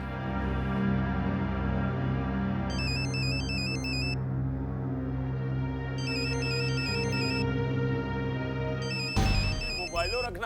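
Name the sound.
mobile phone ringing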